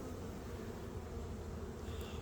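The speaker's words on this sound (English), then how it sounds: "There's a lot of bees in here." Bees buzzing inside an opened beehive during an early-season hive inspection, a steady, dense drone of many insects close by, continuous and without talk.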